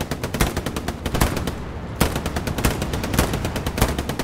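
Automatic machine gun fire in the World War II shooter Hell Let Loose, rapid loud bursts of close shots hammering almost without pause, a short gap partway through before the firing resumes.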